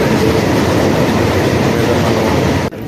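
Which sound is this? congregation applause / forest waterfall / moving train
moving train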